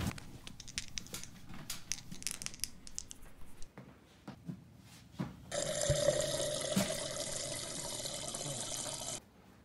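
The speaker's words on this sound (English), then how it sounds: "Just gonna get some water." Water runs steadily from a tap into a sink for several seconds after some quieter shuffling, fairly close and continuous until it stops near the end.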